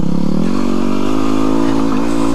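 Yamaha WR250R dual-sport motorcycle engine on a dirt trail ride, loud and close as the throttle opens through corners with a rising, steady drone and slight pitch shifts.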